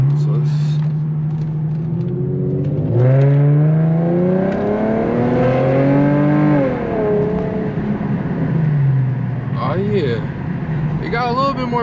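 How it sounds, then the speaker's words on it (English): An Infiniti G37 fitted with Stillen Gen 3 intakes revs with a rising and falling engine drone, while sharp exhaust pops crackle at the start and again near the end. "exhaust is popping, as y'all can hear"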